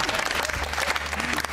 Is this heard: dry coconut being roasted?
no